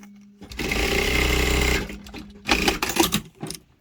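Sewing machine stitching one side of an elastic band for a face-wash headband: a steady close run of rapid needle chatter for over a second, then a few shorter bursts as the fabric is adjusted.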